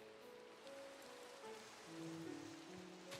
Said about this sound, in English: I guess I can hear rain.